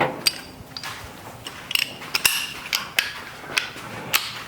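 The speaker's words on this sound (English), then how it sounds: "Let me get a 3/4 inch socket and ratchet." Sharp metallic clicks and clatters come from a socket ratchet working old, long-installed spark plugs out of a 1966 Ford Mustang engine, with scattered ticks and a few louder snaps, close by and with no voice.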